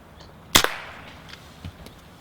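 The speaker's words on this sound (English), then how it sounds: "I've decided to shoot it where it is." A single crisp air rifle shot is taken at a squirrel sitting up a tree, a sharp near crack followed by a brief echo, then a soft dull thump a moment later amid faint outdoor quiet.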